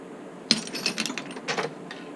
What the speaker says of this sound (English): Ratcheting wrench.